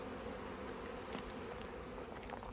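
Honey bees buzzing steadily at the hive entrance during a mite check, a dense continuous hum of many insects close by, with no talk.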